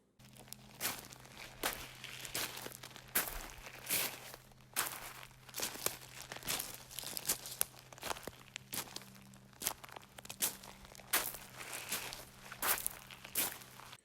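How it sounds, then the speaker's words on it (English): Footsteps crunching over loose rocks at a campsite, a steady near walking rhythm of gritty scrapes and clacks over a low constant hum. "me walking through the rocks"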